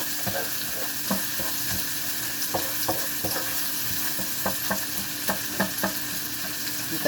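Sliced onion and garlic frying in oil in a pan, a steady close sizzle broken by regular scrapes and taps of a spatula stirring the aromatics.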